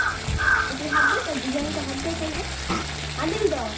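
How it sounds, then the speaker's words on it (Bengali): A paste of ground ginger, garlic, onion, tomato and cumin sizzles in hot oil for a Bengali village-style tel koi fish curry, with short bursts of frying hiss and stirring while someone talks over it. "টমেটো জিরে বাটা সব একসাথে দিয়ে ভালো করে কষে নেব মশলাটা।"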